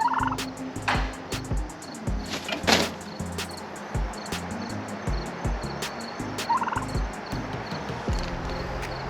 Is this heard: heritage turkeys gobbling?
yes